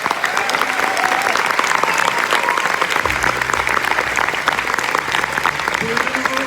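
At the Gérardmer film festival, a screening audience applauds the competing film teams with loud, dense, steady clapping; a low music tone joins partway through.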